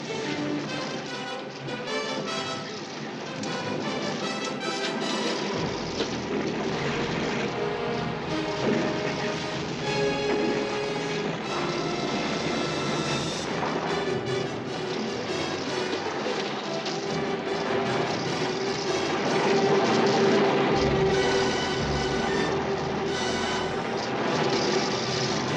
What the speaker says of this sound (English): He's losing his left engine.